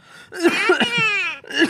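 A pet hill parakeet (Alexandrine type) imitates a cough, giving a short hoarse throaty burst followed by a strained, drawn-out wheezing tone and another brief raspy cough, close and loud.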